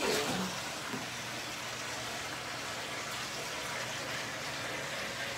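Water gushing steadily into a bathtub being filled for a bubble bath, a continuous rushing noise that holds at an even level throughout, with no voices.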